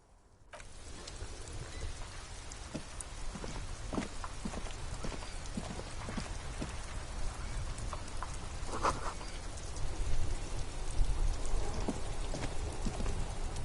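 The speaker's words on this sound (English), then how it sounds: "This rain will not let up anytime soon." Steady rain pours down in the video game Disco Elysium, a dense continuous patter with scattered heavier drops and faint clip-clop-like taps throughout, with no voices.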